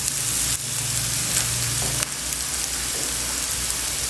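Meatballs sizzling in a pan for polenta with meatball sauce, a loud, steady, close frying hiss with faint crackles and a brief clatter partway through, no voices.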